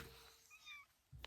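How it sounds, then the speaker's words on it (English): A pet cat gives a faint, short meow with a rising and falling pitch in the middle, heard close by against quiet room noise and ending with a brief soft thump. "one of our cats"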